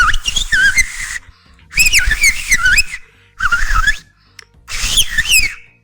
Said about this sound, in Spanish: entonces empiezan a hablar en silbidos